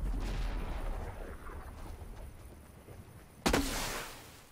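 Gunfire in the video game Fortnite, a muffled rumbling spread of shots followed by one sharp, louder blast near the end.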